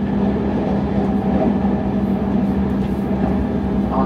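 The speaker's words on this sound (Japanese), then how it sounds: "8時2分発のこの浜松行きの電車に乗り換えます" A commuter train bound for Hamamatsu, departing Atami, rumbles steadily with a low, continuous roar and hum of the carriage, heard from inside, no talking.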